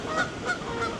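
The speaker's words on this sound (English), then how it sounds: "Uh-oh, goose fight." Geese honk loudly and repeatedly at close range, three harsh calls in one second as the birds squabble outdoors near an abandoned ghost town in Maryland.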